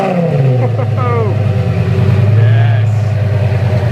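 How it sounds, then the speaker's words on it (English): A Lamborghini Gallardo fitted with a high-tech titanium exotic exhaust cranks and fires up with a loud, close bark, then drops into a steady, deep idle rumble that continues to the end. "If you look through this grill, you can see that titanium, high-tech exotic exhaust. Okay, my man Brennan, here's for the startup"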